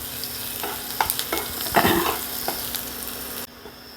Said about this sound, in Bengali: রসুনটা একটু ভাজা ভাজা করে নেবো